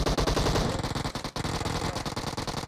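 Sustained rapid automatic gunfire from a firefight in the battle royale game PUBG at the Sanhok Paradise Resort, loud and dense with continuous bursts and a brief break near the middle, no voices.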